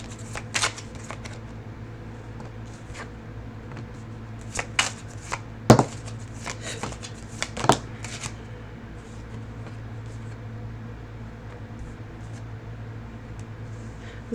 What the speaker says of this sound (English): Let me shuffle real quick and we'll get started.